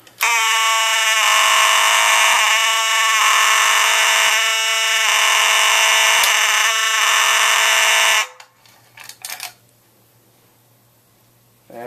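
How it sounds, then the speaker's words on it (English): Simplex 4903-9217 fire alarm sounding during an indoor test: a loud, continuous harsh electronic horn tone pulsing steadily for about eight seconds, then cutting off into a few faint clicks and quiet room noise. "this is a nice alarm too"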